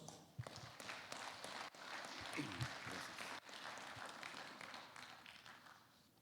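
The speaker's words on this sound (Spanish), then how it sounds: "Lo recibimos con calurosos aplausos." A university lecture audience greets a visiting engineer with a warm round of applause. The clapping is quiet and distant, steady for about six seconds with a few sharper knocks and shuffles.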